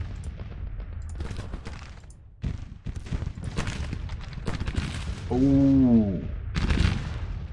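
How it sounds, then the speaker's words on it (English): Civil War-era troops firing at will in Grand Tactician, scattered crackling volleys of musketry at a moderate distance, with someone speaking over the shots. "We're gonna stop the bombardment, so the enemy has ran out. I mean, we just go fire at will for a while."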